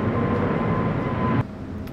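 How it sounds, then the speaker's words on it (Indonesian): A loud, steady broadband roar of an airplane passing overhead fills the clip, then drops off abruptly near the end. "Pesawat lewat, jadi agak berisik teman-teman."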